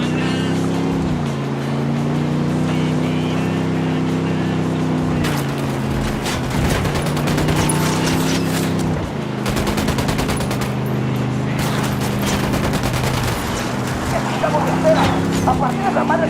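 Gunfire in the Ghost Recon Wildlands video game, bursts of rapid automatic shots rattling over a constant low engine drone, with voices talking through the firefight.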